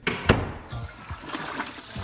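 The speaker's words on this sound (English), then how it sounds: "Oh, I heard the flush." A household toilet flushes off-mic, a sudden rush of water followed by softer gurgling and trickling refill noise, moderately faint, with no one speaking.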